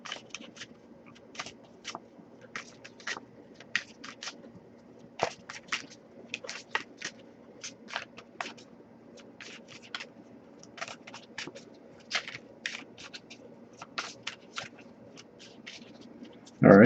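Oracle cards being shuffled by hand: a long run of quick, dry riffling and slapping bursts in an irregular rhythm, close and fairly quiet, with no talk until a loud thump at the very end.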